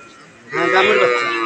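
A Holstein Friesian dairy cow at a village cattle market gives one loud, close, sustained moo that starts abruptly after a quiet moment and holds steady to the end.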